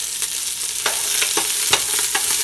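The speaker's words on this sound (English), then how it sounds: "we'll just saute this up until our vegetables soften" Vegetables and garlic for butternut squash soup sauté in a pan, a close, bright sizzle punctuated by several quick scraping stirs at irregular intervals, with no voices.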